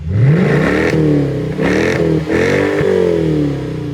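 Mercedes SLK AMG with a 5.5-litre V8 revving close up, the engine note rising and falling through several throttle blips over a steady idle.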